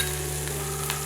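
Ginger garlic paste frying in hot oil gives a steady, dense sizzle throughout a very short moment, close and even, with no talking.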